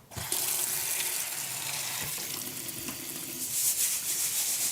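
Tap water runs steadily into a sink while wild rice is rinsed, a continuous close hiss and splash with no talking.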